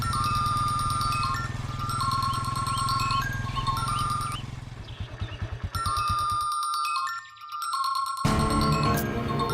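A phone ringtone from an incoming call plays as a repeating electronic melody, mixed with dramatic music and other sounds from a Tamil TV serial scene, breaking off briefly before resuming.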